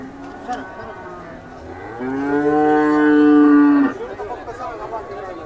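At a cow market in Sangola, a cow of a high-yield dairy breed lets out one loud, drawn-out moo lasting almost two seconds. A murmuring crowd and the bustle of the market sound behind it.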